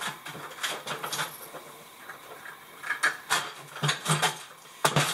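A steel trowel skim coating thinset onto a shower ceiling, giving irregular scraping and tapping strokes, close and moderately quiet, with brief metallic clicks between passes.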